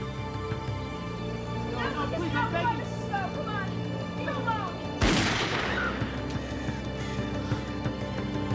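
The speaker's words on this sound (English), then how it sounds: "You didn't have to shoot him at all." In a drama film, a single sharp gunshot cracks out midway through, cutting across music and low background voices before the scene continues.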